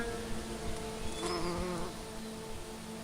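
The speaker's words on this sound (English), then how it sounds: "the bumblebee, Bombus." A bumblebee (Bombus) buzzes in French woods, a close, steady droning hum that swells briefly as it passes nearer midway, alone without voices.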